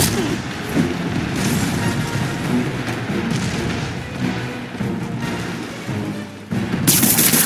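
Gunfire erupts in a Spider-Man video game, a dense, continuous barrage of thuds and booming shots layered over background clamor, loud and close throughout. A brief grunt is heard.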